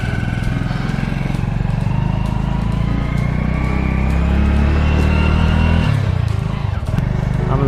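Motorcycle engine running steadily and loud throughout, a continuous buzzing drone with slight rises in revs as the bike pulls away, close to the listener with no talk over it.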